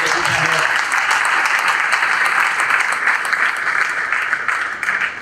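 Audience at a national prayer breakfast breaking into loud sustained applause, dense clapping from a large crowd, with a brief voice at the start and the clapping tapering slightly at the end.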